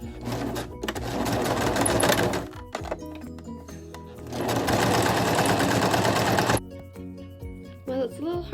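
A sewing machine runs two loud, sustained bursts stitching a seam in sturdy backpacking fabric with fluorescent orange thread, pausing briefly between runs and stopping near the end with a few softer clicks.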